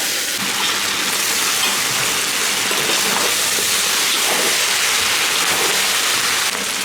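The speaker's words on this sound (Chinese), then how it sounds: "下入白条鸡，继续炒" Chicken pieces stir-frying in hot oil in a wok, a loud, steady sizzling hiss that runs unbroken throughout with no talk.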